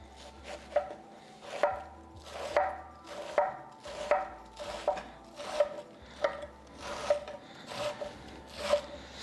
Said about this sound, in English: the best way to enjoy shawarma sandwich is to cut the iceberg pretty much thin slices